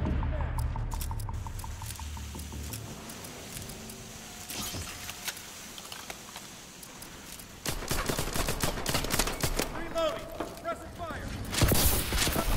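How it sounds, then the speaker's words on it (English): A friendly bombing run in the Call of Duty Exo Survival game, with sustained gunfire, rumbling blasts and jangling metallic clatter building to a loud burst near the end, mixed with game voices. "Friendly bombing run incoming."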